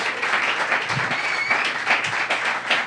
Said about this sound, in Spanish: este es el aplauso de la gente que está aquí